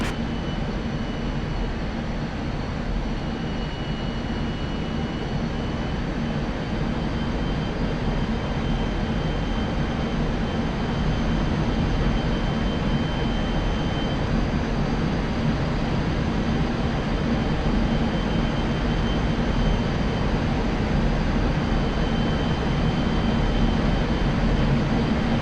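MiG-29A Fulcrum jet in DCS World flight simulator, cruising near 5,000 feet at 400 knots: a loud, unbroken broadband engine roar holding steady throughout with no talk.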